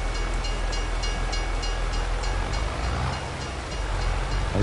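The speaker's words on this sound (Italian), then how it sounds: "Hai visto che il treno è passato?" A passing train in Farming Simulator 22 rolls by with a continuous loud rumble and faint rhythmic wheel clatter on the rails, staying close and steady before easing slightly.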